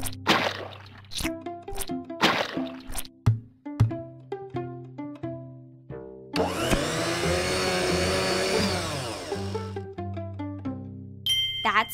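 Cartoon blender in a kids' learning game blending apple pieces into a smoothie, a loud whirring buzz of about three seconds that follows a run of plinking chimes and dings.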